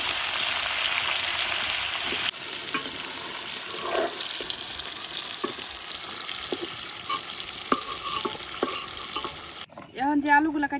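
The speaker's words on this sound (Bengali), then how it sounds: "বেগুনগুলো একটু ভাজে নিলাম" Eggplant frying in a pan in a rural kitchen, with a continuous crackling sizzle, occasional scraping stirs and a short burst of running water near the end.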